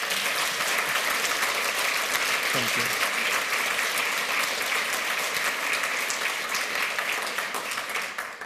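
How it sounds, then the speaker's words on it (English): Sustained applause from a large audience after a conference talk on electronic money and Bitcoin at the 28c3 hacker congress, a dense, even wash of clapping filling the room, with a brief voice thanking the crowd. "A round of applause for peio."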